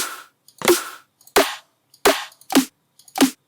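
Punchy future bass snare samples with a slight flam pre-shift, five sharp separate hits in a row, each with a quick bright attack and short decay, following a brief tonal hit at the start, no talking.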